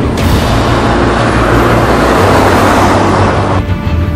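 A BMW X4 drives on BMW's small factory test track, its engine and road noise loud, steady and close throughout, with no voices.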